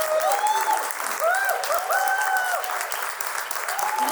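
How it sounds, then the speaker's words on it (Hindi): An audience applauds to welcome poet Roshan Jha at a poetry event, steady clapping throughout with overlapping high whistles and cheers rising above it. "आइए जोरदार तालियों के साथ स्वागत करें रोशन झा का।"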